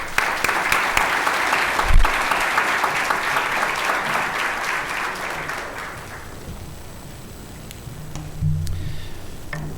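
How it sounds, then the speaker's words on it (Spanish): An audience welcomes a visiting guest at a university campus lecture with strong, sustained clapping that fades gradually, with a few sharp thumps and a murmur of voices near the end. "Recibámoslos con un fuerte aplauso."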